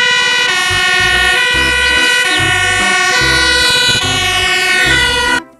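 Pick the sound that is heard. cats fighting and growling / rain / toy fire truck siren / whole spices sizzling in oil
toy fire truck siren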